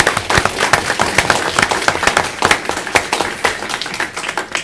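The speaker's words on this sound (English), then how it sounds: "let's give these wonderful ladies a round of applause" An audience at a city council meeting claps in a lively round of applause, with dense, sharp hand claps that rise and fall over several seconds.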